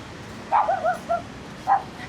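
A small dog by a roadside in Vietnam yips in a quick cluster of high, short barks, then gives one more yelp after a pause, at moderate distance over a faint outdoor background.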